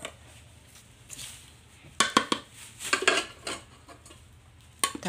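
Tamarind rice being stirred together with a tempering in a pot, with several sharp bursts of a spoon scraping and clinking against metal between quieter stretches.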